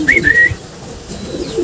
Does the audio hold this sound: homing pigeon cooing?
yes